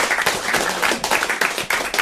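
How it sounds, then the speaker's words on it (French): A studio audience claps loudly for a deputy mayor, producing close, energetic applause with distinct individual claps in a rapid, uneven rhythm. "on peut encore l'applaudir et le remercier pour son témoignage"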